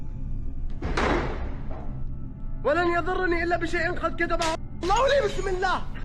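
A door slams shut with one sharp, loud bang early on, during paranormal footage inside a house. Voices with raised, tonal cries follow afterward.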